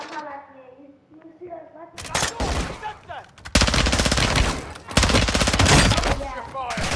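Rapid automatic gunfire and bursts of shots from Call of Duty: Modern Warfare II, loud and dense after a quieter opening with game music, repeated volleys continuing to the end.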